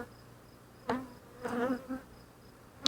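Honeybees buzzing near the microphone during an early-morning beehive inspection, short loud passes of wing drone rising and fading over a faint background hum.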